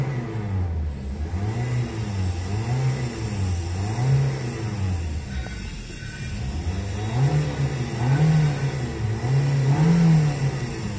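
A warm Toyota Vios engine revving repeatedly in a workshop, rising and falling in several close, loud surges of mid-pitched engine roar with a steady idle between them, no talk over it.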